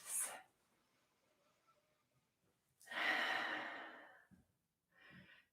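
A long, deep breath during a relaxing spine-care stretching exercise, one airy inhale or exhale swelling and fading over about a second and a half, with short softer breaths before and after in an otherwise quiet room.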